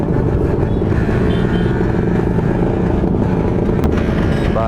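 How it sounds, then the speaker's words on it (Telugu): Motorcycles at India Bike Week, including big bikes, revving loudly in slow traffic, a dense continuous engine roar close by with rising throttle blips throughout. "ప్రతి ఒక్కరు ఊకనే రెవ్ చేస్తూనే ఉన్నారు."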